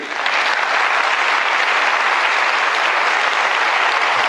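A comedy show audience breaks into loud, dense applause, an unbroken roar of clapping that stays even and close from start to finish.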